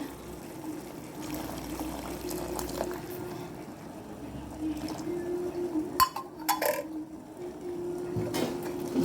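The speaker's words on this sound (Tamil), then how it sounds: "இதில் கொஞ்சமாக பால் சேர்த்துடலாங்க" Milk is poured into rock sugar syrup dissolving in a pan, giving a soft continuous pour and gentle bubbling with a few light clinks, louder toward the end.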